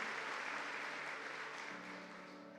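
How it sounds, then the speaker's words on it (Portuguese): A church congregation applauds steadily throughout, a dense wash of clapping at moderate, even volume with a faint sustained tone beneath it. "Você pode aplaudir Jesus por essa verdade espiritual?"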